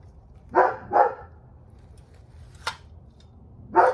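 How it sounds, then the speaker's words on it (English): A dog barks twice in quick succession, then once more after a pause, sounding somewhat distant, with a quiet background and no speech. "I'll fast forward through this because of that whole barking out there"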